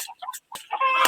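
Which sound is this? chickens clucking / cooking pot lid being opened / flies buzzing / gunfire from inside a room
chickens clucking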